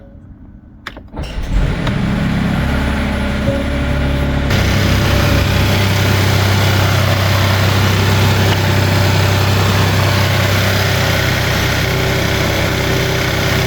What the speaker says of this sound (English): So let's get the car started up.